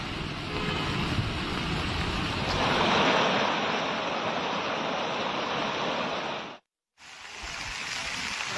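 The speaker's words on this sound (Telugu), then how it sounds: "చెరువులు పొంగిపొర్లి రహదారులపై నీరు నిలిచిపోయింది." Floodwater from overflowing ponds pouring over roads after heavy rain, a loud continuous rushing roar close by, swelling slightly midway, with a short break in sound before the rush resumes.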